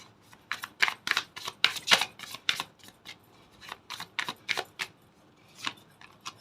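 Tarot cards are shuffled by hand, close up, in a quick series of crisp riffling bursts with short gaps between them.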